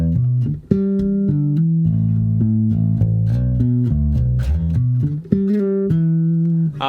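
Bass guitar run through a compressor pedal on a pedalboard, giving a sustained, squeezed-together tone as a melodic line is played with steady, even loudness and no talking.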